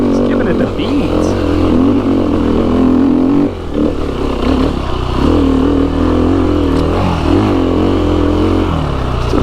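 A KTM 350 XCF-W four-stroke dirt bike accelerates hard with a loud, continuous engine roar close by, its pitch rising and falling through throttle changes and dipping for a moment mid-run, with a rider talking over it.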